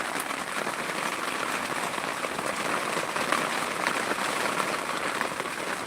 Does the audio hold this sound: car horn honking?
no